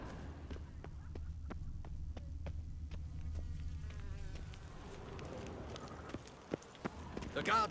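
The horse Roach trots on hard ground in The Witcher 3, giving an even run of clip-clop hoofbeats over a low ambient hum. Then the hooves stop and softer scattered movement sounds follow.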